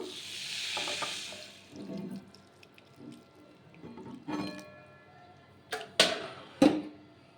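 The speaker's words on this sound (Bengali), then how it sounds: "দেখুন সিমাইটাতে দুধটা দিয়ে দেব" Milk is poured into semai vermicelli in a home kitchen, a soft splashing pour at the start followed by scattered clinks and light clatter of utensils and a pan.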